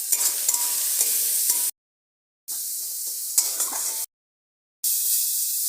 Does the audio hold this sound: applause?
no